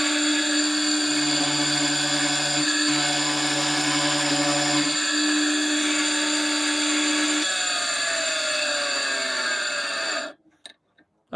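A washing-machine-motor drill setup bores into wood with a dull bit, giving a steady, loud whining hum with shifting tones for about ten seconds before cutting off abruptly.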